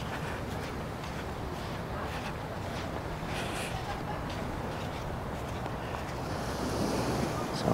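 Ocean waves wash steadily onto Sanur Beach in Bali, a continuous broadband rush of surf mixed with wind buffeting the microphone, growing slightly louder toward the end, with no voices.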